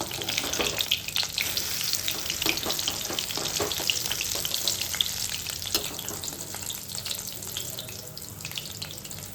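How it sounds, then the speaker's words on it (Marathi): Green chillies frying in hot oil in a home kitchen pan, a steady close sizzle and crackle that runs through the whole stretch with occasional stirring clinks, and no one speaking. "आता मिरच्या मस्त तेलात तळून द्यायच्या आणि मग या उलट्या करून मागच्या साईडने सुद्धा आपल्याला त्या तळून घ्यायच्या"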